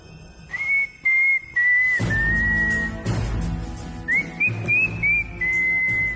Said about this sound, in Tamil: என்னடா விசில் அடிக்கிற?